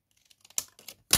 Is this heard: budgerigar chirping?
no